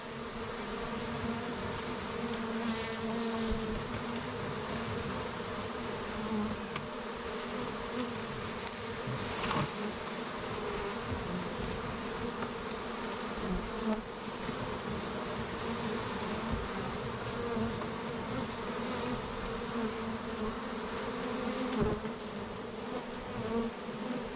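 A dense, continuous hum of a honeybee swarm buzzing close by, steady and droning throughout with slight fluctuations.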